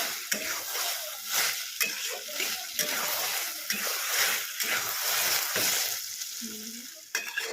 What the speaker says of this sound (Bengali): কর্নফ্লাওয়ারের মিশ্রণটা দিয়ে খুব ভালো করে নাড়িয়ে চাড়িয়ে নিতে হবে নাহলে এটা দোলা দোলা পাকিয়ে যায়